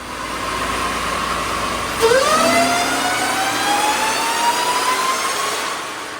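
A supercharged 5.7-litre Hellcat engine running without an air intake revs up during a dyno pull, its whining pitch climbing steadily from a sudden start into a long loud sweep, close with no talk.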